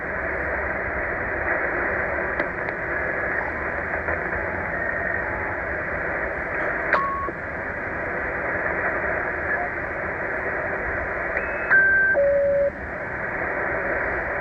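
A Tecsun H-501x receiver tuned to long wave emits a steady band of static hiss with brief whistling tones and birdies that shift in pitch, artifacts of strong medium wave broadcasts.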